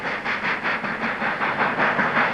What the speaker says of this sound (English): The Flying Scotsman train seen here on the Bassendean Strait and passing Midvale.